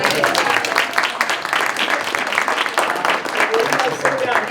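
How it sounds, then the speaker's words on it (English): Audience applause at a school committee meeting, a steady dense wash of clapping held at even loudness for the whole stretch, with murmured voices mixed into the crowd. "One more round of applause."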